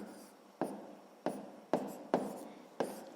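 A pen writes out a math solution on paper in close, quiet strokes: five distinct scratching bursts, each starting sharply and trailing off, spaced roughly half a second apart with no talk.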